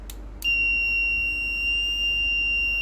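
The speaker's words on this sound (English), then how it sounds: "I can turn on the buzzer." Buzzer on a small solar energy conversion kit sounding a steady, piercing high electronic tone that starts abruptly after two short clicks and holds loud and unbroken, close by with no talking.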